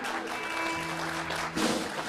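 An audience at an Icelandic music rehearsal claps steadily, a dense patter of applause lasting a couple of seconds alongside sustained tones, with a brief swell near the end.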